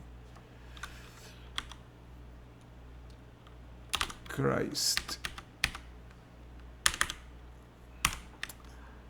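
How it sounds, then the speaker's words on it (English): Fingers type on a computer keyboard in scattered bursts of sharp clicks, with a quick run of keystrokes in the middle and a brief spoken word from one person. "my typing is terrible"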